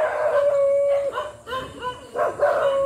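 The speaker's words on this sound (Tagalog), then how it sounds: "Naku, may aso, daming aso." Several dogs at a house bark and howl together in sustained, loud, overlapping yowls with rising and falling pitch, close by and without speech.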